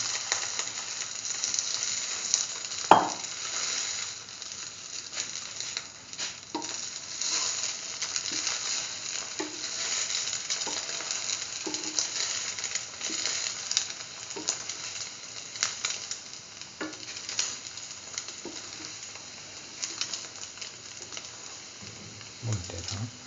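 An egg-dipped cauliflower tomato chili French toast sandwich fries in a pan, giving a steady, soft sizzle with faint crackles throughout, and a few brief scrapes and handling knocks.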